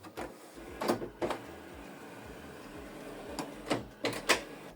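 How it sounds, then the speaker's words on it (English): A Canon Pixma TS3752i printer switches on with a series of mechanical whirs and clunks, several short motor bursts spread over a few seconds. "switch the printer on from this button"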